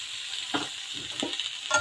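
Prawns and chopped Baguio beans stir-frying in a pan, a steady sizzle with a few clattering stirs of a utensil, close and alone without talk.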